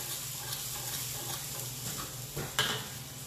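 Garlic added to mud crabs frying in oil gives a steady, soft sizzle, with a light clink of a utensil against the pan near the end.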